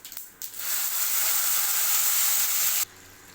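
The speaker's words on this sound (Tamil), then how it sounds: "சின்ன கடாய் வச்சுருக்கேங்க அதில் கொஞ்சம் எண்ணெய் ஊற்றிக்கலாம் கடுகு உளுத்தம்பருப்பு போட்டுக்கலாங்க அந்த பேஸ்ட் இதில் போட்டுக்கலாம்" Tomato paste hitting hot oil with mustard seeds and urad dal, a sudden loud hiss that holds for about two seconds and then cuts off sharply.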